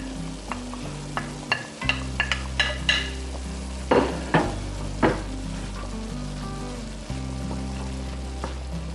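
Carrot with green and red peppers sautéing in a pan for rigatoni with minced meat, vegetables and cheese: a loud continuous sizzle broken by repeated sharp spatula scrapes and clatters, close and without talk.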